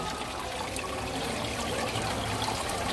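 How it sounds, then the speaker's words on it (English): Water trickles and splashes steadily down a tiki statue fountain of Maui at Walt Disney World, a soft continuous flow heard alone from close by. "You can see the water flowing down there."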